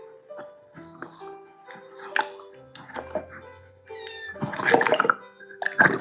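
A kitten meows repeatedly near water at the shore, short, high cries scattered over splashing and lapping waves that grow louder toward the end.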